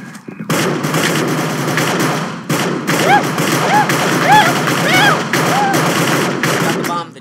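Rapid video-game gunfire in a cops-and-criminals shooter, a dense run of repeated shots with beeping effects over several seconds, mixed with people talking.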